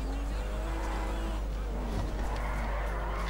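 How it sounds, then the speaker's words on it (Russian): In GTA V, the fastest car in the game roars with a steady, loud engine drone and no break, along with faint road noise, while it drives a long distance. "Послушай просто рев этой машины."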